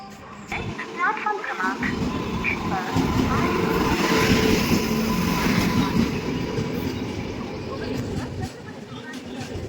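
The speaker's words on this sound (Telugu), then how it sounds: "ఒక ట్రైన్ అయితే వచ్చేసినాం అనమాట ఒకసారి చూడండి మొత్తం లింగంపల్లి రైల్వే స్టేషన్ ఇది" A loud rumbling train rolls steadily into Lingampalli railway station, its roar building and holding before easing, with brief voices near the start.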